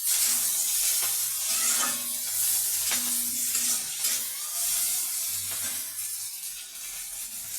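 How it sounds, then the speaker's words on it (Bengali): Chopped onion and green chili frying in hot oil in a pan for arhar dal, a loud, hissing sizzle with several distinct stirring scrapes and knocks of a spatula, close by and without any talking. "এবার আমি এর মধ্যে পেঁয়াজ কুচি দিয়ে দিচ্ছি।"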